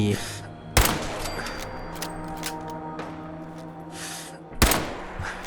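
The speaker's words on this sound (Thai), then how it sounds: "เตรียมยิงโลซาครับ ยิงสักหน่อยเอา exp" Gunfire in Fallout 4, two sharp loud shots spaced several seconds apart over a humming, busy game background.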